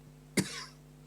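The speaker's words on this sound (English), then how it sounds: "I cough from the emphysema" A single short, dry cough from a man with emphysema, quiet and close, with a faint rasping tail and a low steady hum beneath it.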